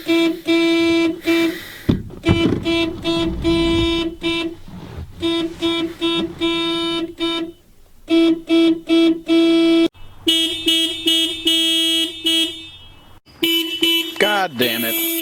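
A car alarm blares in a rapid pulsing cycle, changing pattern several times between short bursts of horn-like beeps and steady wailing tones, loud and close, with a brief lull and a rising sweep near the end.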